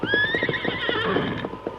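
A horse neighs loudly in a long shrill whinny while hooves clip-clop beneath it, set in a radio drama scene of riders pushing through a snowstorm with deep drifts and strong wind.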